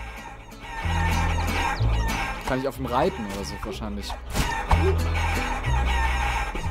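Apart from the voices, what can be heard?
chickens clucking in the video game Guacamelee!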